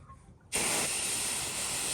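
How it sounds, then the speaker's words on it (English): A sprayer abruptly starts spraying soap chemical onto a roof, giving a loud, steady hiss that runs unbroken after a brief quiet moment. "when I'm spraying a roof like this is I'll just hit a little bit,"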